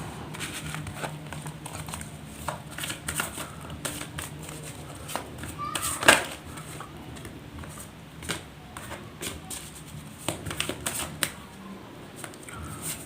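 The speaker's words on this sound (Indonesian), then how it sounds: "Langsung saja saya shuffle kartunya." Tarot cards being shuffled for a Gemini weekly reading, a dense run of quick papery riffling and crinkling taps with one sharper burst midway, close and moderately quiet over a faint room hum.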